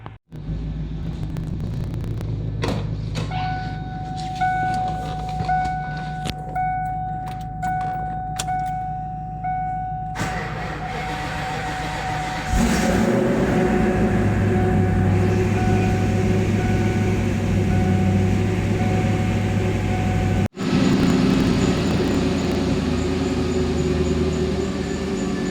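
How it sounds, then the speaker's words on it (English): A Vortech-supercharged 1997 Mustang Cobra cold-starts and settles into a steady, loud idle. A whining tone runs over the rumble, and the pitch steps up partway through before a brief cut and resumption. "a cold start"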